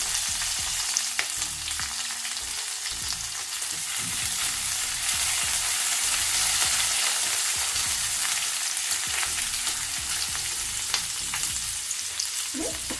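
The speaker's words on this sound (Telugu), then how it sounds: "ఒక 2 నిమిషాలు మనం వేయించుకోవాలి. ఉల్లిపాయలు కొంచెం కలర్ వచ్చే వరకు." Chopped onion and curry leaves frying in a pan for a vegetable korma, a steady loud sizzle that holds throughout with occasional stirring scrapes.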